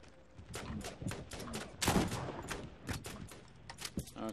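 Rapid bursts of shotgun fire in Borderlands crack in quick succession, loud and punchy, with a heavier blast in the middle.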